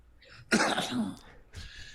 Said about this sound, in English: careful of that cough